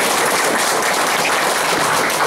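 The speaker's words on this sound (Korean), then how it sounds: "다시 한번 박수로 맞이해 주시기" An audience at a redevelopment association's extraordinary general assembly claps in a dense, steady burst of applause to welcome the assembly chairman, filling the room evenly with no voices heard.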